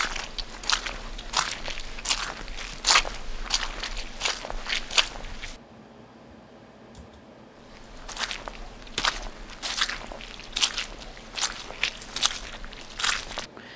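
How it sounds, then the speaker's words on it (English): Footsteps sloshing through mud, made as sound design for the video game Hearthbound: a steady run of wet, squelching crunches that pauses briefly and then resumes, close and fairly loud. "we're sloshing in the mud. Great sound. Let's just listen to these footsteps."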